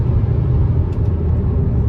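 Inside a Volkswagen Jetta Mk6 braking hard from about 140 km/h, a loud, steady low road and engine rumble fills the cabin with no voices.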